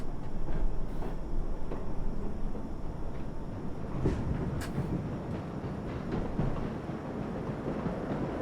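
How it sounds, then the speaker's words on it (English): Express New York subway train in World of Subways 4 approaching, a continuous low rumble and rolling roar with brief high squeals from the wheels, steady and fairly loud throughout. "Oh, here comes the express train, yep."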